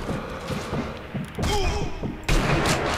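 Sniper Elite V2 game combat with sharp gunshots and thuds, several loud cracks and impacts scattered through a noisy battle soundscape.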